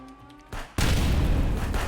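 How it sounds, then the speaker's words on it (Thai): In the video game Contraband Police, an explosion hits with a sudden loud blast that settles into a dense, sustained roar of gunfire-like rumble after a brief thud and quieter ambience. "ใครมันยิงระเบิดตรงนี้วะ"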